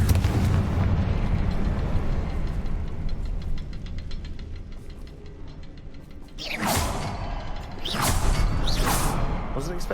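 A Confringo blasting spell goes off during Hogwarts Legacy gameplay, rising out of a steady low rumble as two loud, sharp blast bursts spaced about a second and a half apart.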